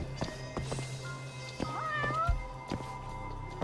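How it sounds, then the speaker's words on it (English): Several cats meowing in the video game Judgment, a series of short, distinct meows that overlap at moments, fairly close against a low background hum from the game. "I do hear multiple cats."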